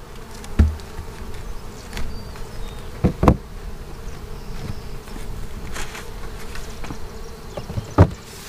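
Honey bees buzz steadily around an opened hive during an inspection, a close, continuous hum with occasional sharp knocks and taps from handling the equipment.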